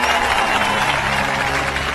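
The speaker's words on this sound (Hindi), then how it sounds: "ताली बजाओ" Sustained applause from a large crowd, a steady dense wash of clapping at close range that holds evenly loud throughout, with no voices standing out.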